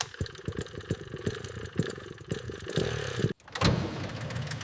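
A restored motorcycle engine, rebuilt from a dumpster wreck, idles with a rapid pulsing beat up close, then a throttle blip after a brief dip brings a louder, rougher burst of revs.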